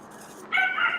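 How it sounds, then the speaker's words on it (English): A single short, high yelp of a dog rings out nearby after a quiet moment, sharp and brief. "I hear that dog barking"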